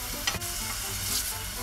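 Chopped onion sizzling steadily in a pan for mushroom risotto, a loud, continuous frying hiss broken by a brief scrape of stirring.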